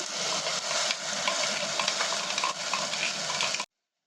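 Ground coconut masala paste hits hot oil in a pan for a fish curry, giving a loud, dense, continuous sizzle with stirring scrapes, close by, that cuts off sharply.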